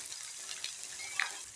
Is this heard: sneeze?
no